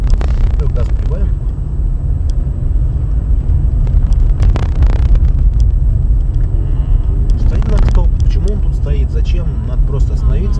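A car's engine on a driving-test route near a railway crossing in Ryazan gives a steady, close low rumble that swells slightly as the throttle opens, with people talking over it inside the cabin.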